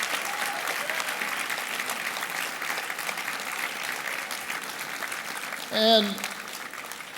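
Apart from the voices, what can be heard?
audience applause at election night speech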